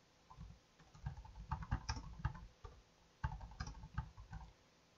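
Soft clusters of computer keyboard keystrokes in quick bursts, pausing briefly between runs of typing, fairly quiet and close.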